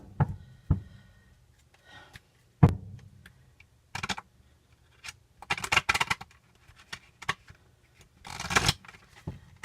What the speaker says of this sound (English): Okay, I'll shuffle these up here. These are large cards, they're hard to shuffle.